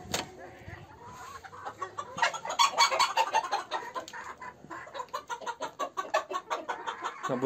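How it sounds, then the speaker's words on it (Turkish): Chickens in a farm coop cluck and squawk repeatedly in a busy, uneven chorus, fairly close, with faint background voices. "Şuradan da tavuk kümesimize geçelim."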